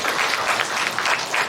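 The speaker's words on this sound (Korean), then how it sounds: "수고하신 우리 동화구연 팀한테 다시 한번 큰 박수 부탁드립니다" A small audience at a book launch event claps in a continuous, moderately loud burst of applause.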